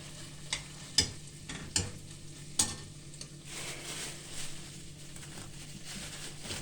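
Onions, garlic and paste frying in a pan with steady sizzling, punctuated by a few sharp scraping stirs early on, then a continuous crackle.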